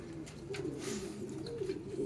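Racing pigeons coo steadily in a low, continuous murmur of overlapping calls, close and fairly loud, with no talking.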